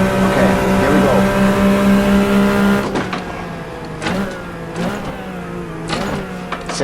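Porsche 911 Carrera RSR 3.0 in Assetto Corsa under throttle: a loud, steady engine drone at first, then a sharp drop after a shift, followed by repeated rising revs through the gears.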